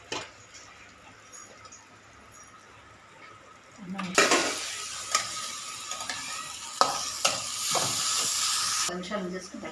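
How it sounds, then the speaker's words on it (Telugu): After a quieter opening with faint voices, a spoon stirs an ivy gourd curry mixture in a pan, giving loud scraping and sizzling strokes with small clanks against the metal. "ఇప్పుడు అన్నీ కలిపేస్తారు"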